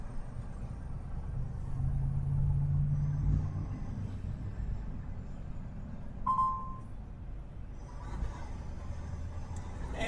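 Road traffic from inside a truck cab on a Kentucky–Ohio run, a steady low engine rumble with passing vehicles, a brief hiss like an air brake, and faint background noise without talk.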